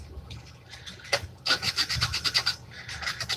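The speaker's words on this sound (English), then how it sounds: "A little bit of sandpaper." Sandpaper rubbing on a wooden panel during a 24-hour build, a burst of quick rhythmic back-and-forth scratching strokes, close and fairly loud, after a few softer rubs.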